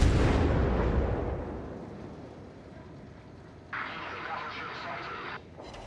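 A warship's rear cannons fire in a naval battle video game: a heavy boom opens and rolls off into a long fading rumble, followed by a steadier mid-range burst of noise that cuts off abruptly.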